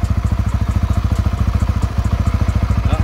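A Honda Winner X motorcycle engine idles with a steady, rapid, even thumping beat that stays close and loud throughout.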